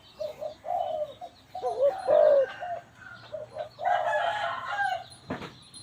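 A Thai decoy bird gives a series of short, throaty cooing and crowing calls in uneven bursts, fairly close and clear against a quiet background, with one sharp knock near the end.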